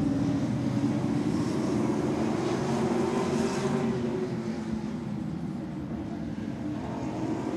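Late model race cars roar around Seekonk Speedway, a loud, continuous engine drone from the pack that swells and shifts slightly as the cars pass, with no break throughout.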